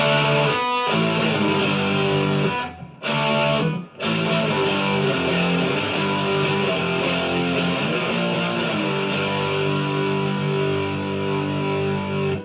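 Heavily distorted electric guitar, a Squier Classic Vibe 50s Stratocaster hardtail on the bridge single-coil pickup with high gain, playing sustained, crunchy chords, loud and continuous, with two brief gaps where the sound cuts out.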